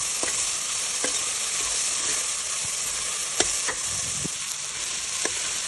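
Chilli paste, curry leaves, ginger, garlic and vegetables fry in oil for pulao, giving a loud continuous sizzle with repeated scraping taps of a spoon stirring the pan.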